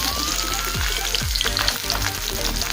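Cube-cut capsicum sizzling in hot oil in a wok after the garlic has fried, for chilli egg, a loud steady crackle with a few stirring scrapes, close and with no speech.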